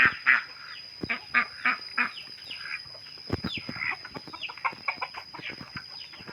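Chickens in a rural village coop, where the birds roost, keep up a busy run of close, loud clucks and squawks. Sharp calls come in quick bursts over a low background, with no talking.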